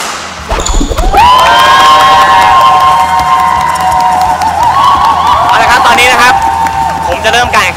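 A game show audience cheers and shouts loudly and continuously at a contest, with whistles and excited cries, and a voice speaks over part of it.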